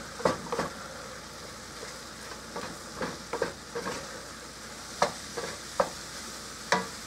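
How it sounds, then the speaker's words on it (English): A spoon stirs a quarter cup of flour into cooked hamburger meat in a pan with repeated, close scraping strokes over a soft sizzle, with no voices. "I'm just going to take and sprinkle about a quarter cup of my flour in there. Get that mixed around."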